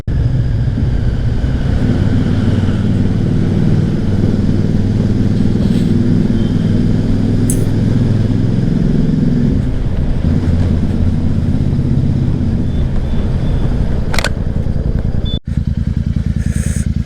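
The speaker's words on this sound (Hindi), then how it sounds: "बाइक की साउंड गजब गजब गजब गजब" A motorcycle engine runs steadily and loud throughout near an old tunnel in Uttarkashi, a deep continuous rumble with wind buffeting the microphone.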